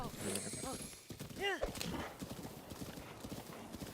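Horse hooves clip-clop in a Zelda video game, a close, rhythmic trot with a short whinny, heard alongside game sounds and someone talking.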